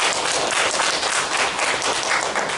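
A church congregation applauding during a Sunday service, a loud, dense and continuous burst of many hands clapping with no talk over it.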